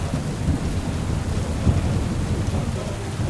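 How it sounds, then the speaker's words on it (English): A steady thunderstorm in the Kingdom Come: Deliverance 2 video game: dense, continuous rain hiss over deep rolling thunder, loud and unbroken throughout with no voices. "Love how the storms sound in this game."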